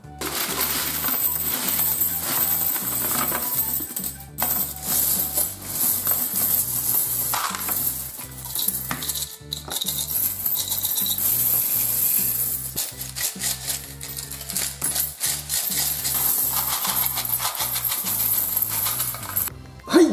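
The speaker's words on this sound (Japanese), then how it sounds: "今回はこの貯金箱を開封していきたいと思います" Coins pouring out of an opened piggy bank, a dense, loud metallic jingling and clattering that runs almost continuously for about twenty seconds, with short pauses and no talk.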